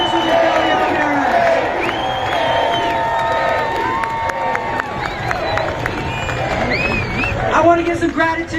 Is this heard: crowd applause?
yes